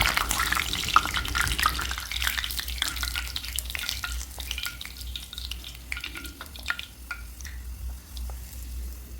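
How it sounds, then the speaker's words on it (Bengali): Bitter gourd frying in oil in a pan, a close, steady sizzle and crackle with scattered sharp pops and occasional scraping stirs, louder in the first couple of seconds then settling to a softer fry. "উচ্ছেটা দিয়ে দিয়েছি, উচ্ছেটা ভাজা করে নিচ্ছি ভালো করে।"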